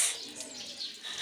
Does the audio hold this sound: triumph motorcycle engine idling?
no